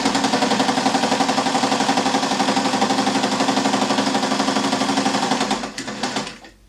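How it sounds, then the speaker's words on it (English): A sewing machine stitches a French seam in fabric, its needle pounding in a steady fast rhythm, loud and close, before slowing and stopping at the end. "And now I'm going to sew again."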